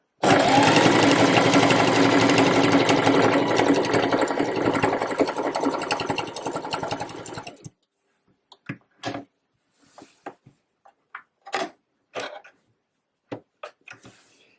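A sewing machine runs steadily for about eight seconds while stitching along the edge of a seam on a reversible waistcoat, then stops, leaving scattered short clicks and taps of handling.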